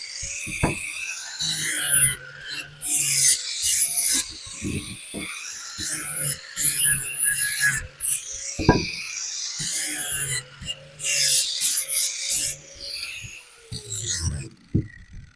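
A hand tool rounds off the corners of a wooden board in a beginner woodworking setup. Short, bright scraping strokes come in bursts separated by brief pauses, heard up close.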